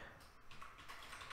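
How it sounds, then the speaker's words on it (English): Keystrokes on a computer keyboard while a DNS host record name is entered, a quiet, steady run of soft clicks close up with no talk. "I'm just gonna type the name here."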